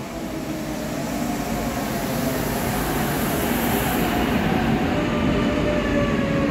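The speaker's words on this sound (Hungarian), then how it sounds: "Most már viszont kezdjük meg az utazást a Püspökladány Pihar keresztes vasútvonalon." Passenger train on the Püspökladány–Biharkeresztes line in Hungary, heard from on board as a loud, steady rumble of wheels on rails with a faint high squeal, continuous throughout and no talk.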